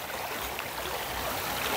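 A stream flowing through backcountry farmland in the Brazilian sertão during the wet season, a steady close wash of rushing water with a continuous broadband hiss and no voices.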